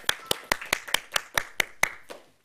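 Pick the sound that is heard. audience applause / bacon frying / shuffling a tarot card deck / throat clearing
audience applause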